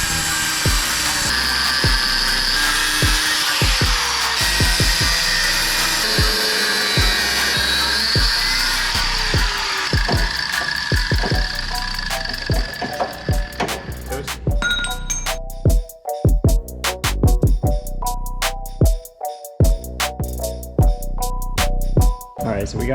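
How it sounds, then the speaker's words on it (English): Cutoff wheel slicing through a welded-on tow hook on a Mercedes 300CD, a loud continuous grinding whine with shifting pitch and clanking metal toward the end, no talk. "So Dave has the trusty old cutoff wheel."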